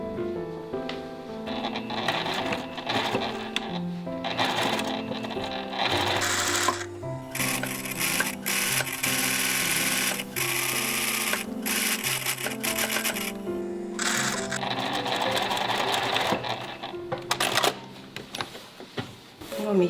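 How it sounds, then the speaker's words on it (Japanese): A home sewing machine stitches a 5 mm topstitch around a round-opening seam pocket, running in bursts of fast rattling whir separated by pauses, clicks and fabric handling, close and clear. "これでこの周りに5ミリのステッチをかけます。"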